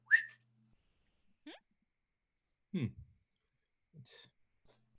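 A voice imitates a whistle in a series of short, quiet, separate bursts: a brief rising whistle-like tone, then clicks and sliding mouth noises spaced apart over a few seconds, alone with no other sound.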